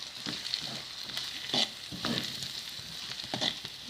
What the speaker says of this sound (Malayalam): അതിലേക്ക് അരിഞ്ഞു വെച്ച സവാള ചേർത്ത് കൊടുക്കാം കറിവേപ്പില ഇട്ട് നല്ലോണം ഒന്ന് ആക്കി എടുക്കാം